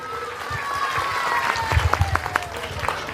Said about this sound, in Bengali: আমি চাই মেহবুব স্যারের জন্য সবাই জোরে হাততালি হোক